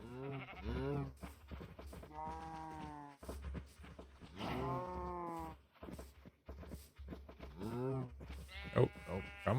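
Sheep in Minecraft bleating in a few separate wavering calls among other livestock noises, fairly close and loud, spaced out with short gaps and a low background hum.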